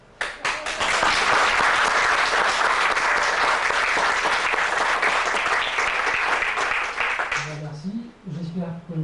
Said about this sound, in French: J'espère que vous applaudissez pas uniquement par politesse